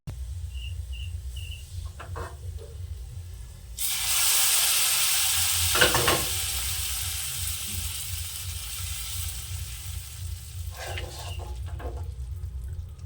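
Fried spice tempering with dried fenugreek leaves poured into lentil curry for an egg tarka dish: a sudden loud burst of sizzle that slowly fades over several seconds. A low background hum runs under it, with faint clinks before and after.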